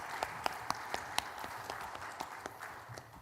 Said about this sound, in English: Another round of applause for Mr. Cappello and his talk